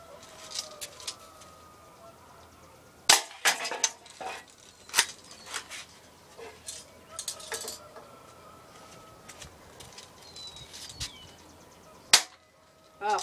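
A Daisy Powerline 201 BB air rifle fires at a target, giving sharp, isolated snaps spaced several seconds apart, close and clear against a quiet outdoor background.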